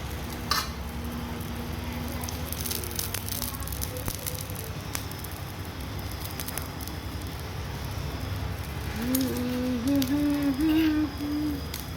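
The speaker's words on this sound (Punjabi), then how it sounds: "ਤੇਲ ਗਰਮ ਹੋਊਗਾ ਫਿਰ ਮੈਂ ਵਿੱਚ ਪਾਵਾਂਗੀ ਜੀ ਟਿੱਕੀ" Potato-stuffed capsicum tikki frying in hot oil, giving a steady close sizzle throughout, with a faint voice-like tonal sound rising near the end.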